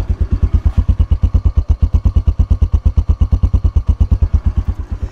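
A 2022 Italika TC 250 motorcycle idles up close, its engine firing in a steady, fast, even thump with a rattly mechanical edge, loud and alone without talk.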